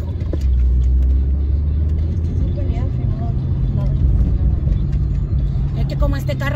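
Steady low road rumble from inside a moving car, loud and continuous for the whole stretch, with faint voices and brief speech-like sounds rising over it near the end.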